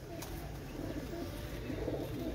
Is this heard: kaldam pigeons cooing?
yes